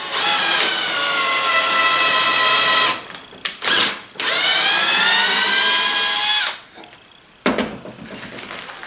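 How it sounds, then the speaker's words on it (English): A power drill bores a hole for threaded rod in a rubber-footed eraser-style tool build, a loud steady whine for about three seconds, then a short burst, then another long run before stopping, with no talking. "Drill a hole."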